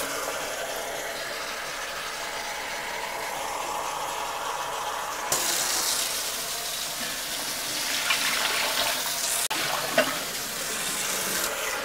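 Tap water runs steadily into a cooking pot at a kitchen faucet, a continuous close hiss and splash that shifts and brightens midway as the stream changes, with no talking.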